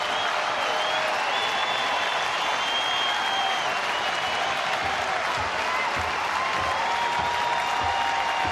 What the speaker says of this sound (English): This capacity crowd comes to their feet.